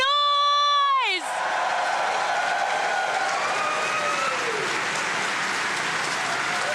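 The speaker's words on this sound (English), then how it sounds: "Can we give them a warm welcome, a big round of applause?" Enthusiastic audience applause and cheering erupt at a Capcom game panel right after a brief tonal jingle, then continue as a dense, steady roar of clapping with voices mixed in.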